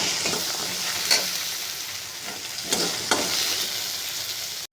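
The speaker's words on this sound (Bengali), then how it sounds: "এই গাঁটি কচুটাকে আমি একটু নুন আর হলুদ দিয়ে এটাকে ভেজে নেব" Pieces of taro fry in a pan with salt and turmeric, a steady hissing sizzle broken by a few brief stirring scrapes.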